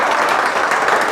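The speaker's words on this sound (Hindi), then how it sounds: "ये तालियों का हकदार है कि नहीं?" Audience applause at a Hindi-language business training session, dense and steady throughout a short burst, loud and close with no talk over it.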